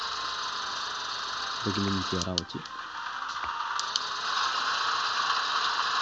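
A tractor engine in Farming Simulator 14 drones steadily with a constant rattling hum throughout, while someone speaks briefly over it partway through.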